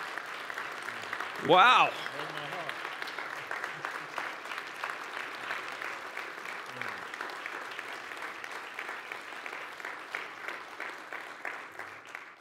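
A church congregation applauds steadily as a new leader is welcomed into church leadership during a Sunday worship service, with one voice exclaiming briefly near the start.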